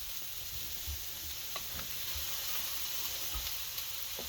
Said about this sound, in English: We're going to get these over here sauteing as well.